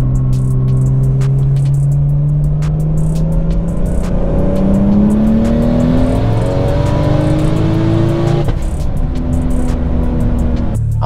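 A 700 hp single-turbo BMW 335i accelerates hard through the gears, engine pitch climbing in long sweeps with a brief shift break, loud and close.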